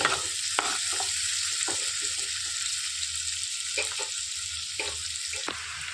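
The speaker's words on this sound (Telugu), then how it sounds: "సన్నగా తరిగి పెట్టుకున్న ఆనియన్స్ వేసేసుకొని వేయించుకోవాలి" Finely chopped onions fry in oil with a steady broadband sizzle, broken by intermittent scraping strokes of a spoon against the pan, no talking.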